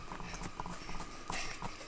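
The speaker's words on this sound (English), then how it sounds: "Pick up those hooves. She's a horse, in case y'all couldn't tell." A horse out on a high-country mountain trail clip-clops steadily. The hooves sound faint and rhythmic, with soft outdoor background noise and no talking.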